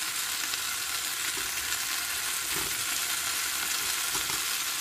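Potato and eggplant fry in hot oil with raw tomato going in, giving a steady dense sizzle with occasional soft stirring, close and continuous, no voices.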